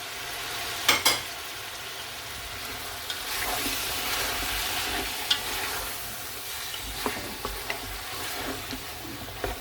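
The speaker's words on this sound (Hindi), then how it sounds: "ये 3 टमाटर हैं, ये मैं ऐड करूँगा।" Tomatoes frying and being stirred in a pot for chicken pulao, a steady close sizzle with scattered clinks and scrapes of the spoon, no talking.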